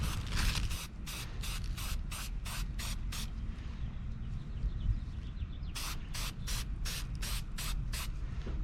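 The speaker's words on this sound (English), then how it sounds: "so I'm going to spray some of the oil on it" Rapid bursts of aerosol filter oil spray hiss onto a sailboat engine's air filter, a quick series of short pulses, a pause with faint handling noise, then another run of close spray bursts.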